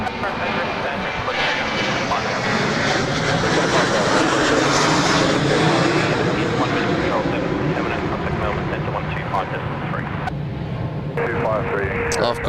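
An airliner takes off at Adelaide Airport, its engine roar building steadily and holding loud throughout, while someone talks over the noise and radio chatter cuts in near the end.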